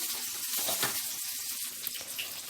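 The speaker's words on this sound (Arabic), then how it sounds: "واحط عليهم كمان شويه ميه." Water pours steadily into a bowl with a close, continuous splashing trickle, no voices present.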